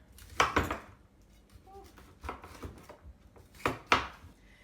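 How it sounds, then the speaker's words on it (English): A knife chops through cauliflower on a cutting board in quick clusters of crisp cuts, separated by brief pauses, close and fairly loud. "We're just roughly chopping it."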